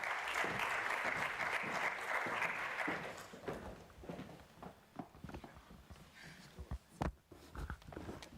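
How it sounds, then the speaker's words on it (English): A round of applause for the panelists at a policy discussion on digitalisation and power: full clapping for about three seconds, then thinning into scattered individual claps and a few footstep-like knocks as it dies away. "Please join us with a round of applause."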